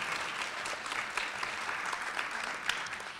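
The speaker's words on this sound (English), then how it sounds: "Let's give them a round of applause." A school spelling bee audience claps for a student orchestra, continuous even applause from a room of people, fairly quiet and distant, with no voices over it.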